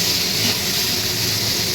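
Paratha with a green pea filling frying in a hot pan, giving a steady, loud, even hiss of sizzling oil that holds without a break from start to finish.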